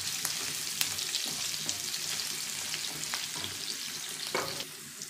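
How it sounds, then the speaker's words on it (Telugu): Onions and green chillies frying in a pan give a constant crackling sizzle with scattered pops and occasional stirring scrapes, close-up, with no voices. "ఆనియన్స్, వేసి మంచిగా ఫ్రై చేసుకోవాలి."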